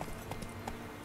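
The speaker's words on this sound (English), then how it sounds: "Is this Roach or is this a random horse?" Roach, a horse in The Witcher 3, clip-clopping with soft, steady hoofbeats at a walking pace, heard briefly and alone at moderate volume.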